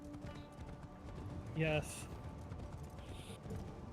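Horse hooves clip-clopping in the video game Assassin's Creed Shadows, a quiet rhythmic trot under game sounds, with a brief voice in the middle.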